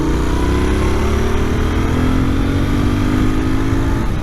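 A Royal Enfield Interceptor 650 motorcycle engine, still being run in, drones steadily at moderate revs while riding, with constant road and wind rumble filling the background.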